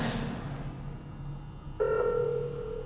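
A phone rings inside a backpack during an accidental pocket call: after a stretch of low background rumble, a steady tonal ring suddenly starts and holds, moderately loud and slightly muffled.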